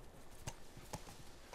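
Horse hooves clip-clopping in The Last of Us video game, a few soft, evenly spaced hoof strikes set against a low, steady background as the horse slows to a stop.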